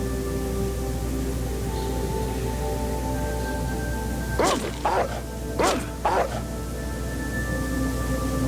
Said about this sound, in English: Man, there are so many dogs.